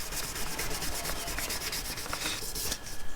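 Hand sanding with 1000-grit sandpaper over painted motorcycle parts such as a clutch lever or derby cover, a steady close scratchy rubbing in quick repeated back-and-forth strokes, with no voices.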